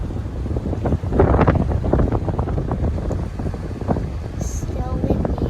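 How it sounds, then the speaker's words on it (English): Strong wind buffets the microphone in low, rushing gusts at a campsite in the Florida Keys, with muffled voices faintly mixed in and a brief high chirp near the end. "Still windy. It's still windy."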